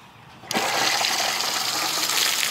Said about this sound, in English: He sees the water spraying